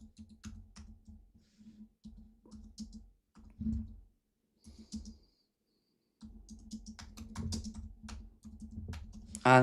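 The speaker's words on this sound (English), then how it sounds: "Sorry, folks, I'm still typing this out." Bursts of clicky computer keyboard typing, close and fairly quiet, with short pauses in between and a steady low hum underneath.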